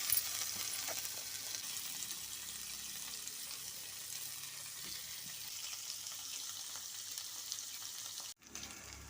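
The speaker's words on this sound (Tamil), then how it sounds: "பன்னீரை இப்படி சுட்டு எடுத்துக்கலாம்." Paneer roasting in a pan, a faint steady sizzle with soft hissing and occasional light scraping, ending in a brief dropout near the close.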